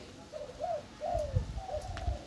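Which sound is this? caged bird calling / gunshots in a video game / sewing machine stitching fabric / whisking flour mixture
caged bird calling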